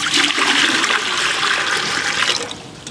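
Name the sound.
water poured into a pot to boil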